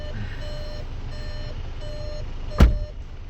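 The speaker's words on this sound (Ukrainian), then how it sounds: "Прикрий дверку, щоб не пищало" A VW Passat B8's open-door warning sounds a steady electronic beep pattern repeating at regular intervals over a low engine hum, followed by a short dull thump.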